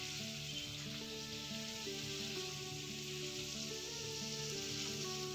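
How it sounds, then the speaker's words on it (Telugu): Cut radish pieces fry in a pan as they are mixed in, a faint, even hiss of frying with no distinct clinks or talking. "ఫ్రై అయ్యాక ఇందాక మనం కట్ చేసి పెట్టుకున్న ముల్లంగిని తీసుకొని ఇందులోకి యాడ్ చేసి బాగా కలిసేలా బాగా కలుపుకొని"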